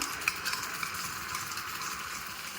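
Marinated chicken pieces for homemade Al-faham frying in well-heated oil, a steady close sizzle and crackle of hot oil with a few small pops, and no voice over it.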